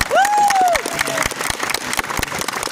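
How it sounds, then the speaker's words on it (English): A dense patter of clapping from many hands, steady applause with a brief rising whistle at the start. "Give yourself a applause."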